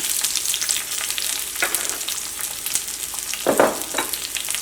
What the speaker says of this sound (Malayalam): കടുക് പൊട്ടിയിട്ടുണ്ട്. ഇനി ഇതിലേക്ക് ചുവന്നുള്ളി ചേർക്കാണ്